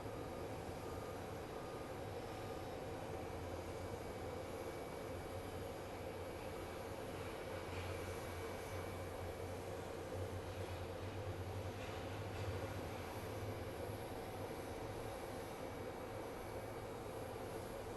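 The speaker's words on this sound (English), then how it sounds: "And here comes our Airbus, our A300, our big boy." Airbus A300 airliner at Phoenix Sky Harbor International Airport, a steady, fairly distant engine rumble with broadband roar that holds evenly throughout, with no voices.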